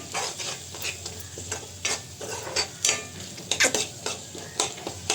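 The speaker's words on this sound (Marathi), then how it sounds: "आपला मसाला चांगला भाजून घ्यायचा आहे" Masala roasting in a pan: repeated close scraping strokes of a spatula stirring against the metal, over a low sizzle, irregular rhythm, no voices.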